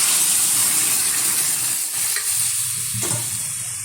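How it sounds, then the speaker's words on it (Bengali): Boiled masoor dal hits a hot wok with a strong, continuous sizzle and frying hiss, loud and close, softening slightly toward the end with a light clink. "দিয়ে দিচ্ছি এখন সিদ্ধ করে রাখা মুসুরির ডাল, একটু কাটা দিয়ে ঘেটে নিয়েছি যাতে ডালটা একটু গাঢ় হয়। ঢেলে দিচ্ছি কড়াইতে।"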